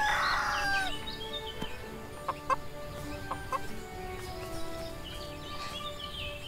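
Hens cluck in a farmyard: a sharp, squawking call opens, followed by soft, scattered, repeated clucks and chirps at moderate distance over quiet background.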